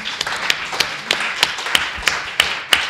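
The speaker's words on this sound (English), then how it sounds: "Let's give a round of applause to the panel" Sparse clapping from a small symposium audience thanking a panel, a few distinct claps in an uneven rhythm, fairly near and modest in volume, with no talk over it.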